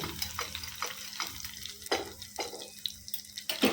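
Garlic fries in hot oil with mustard seeds, cumin and dried red chilies for an amaranth-leaf pulusu tempering, giving close, crackling sizzles and scattered pops in short irregular bursts.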